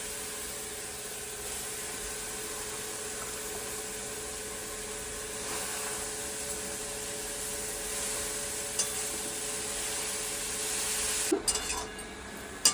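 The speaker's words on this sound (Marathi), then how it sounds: "हे बघा, त्या फोडणीमध्ये भाजी परतून घेतली." Tandulka greens sauté in hot tempering oil, sizzling steadily throughout, with occasional clinks of a spoon stirring the pan close by toward the end.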